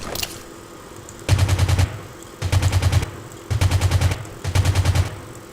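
Rapid bursts of automatic gunfire come in four sustained volleys separated by short pauses, sharp and close in the game Rules of Survival.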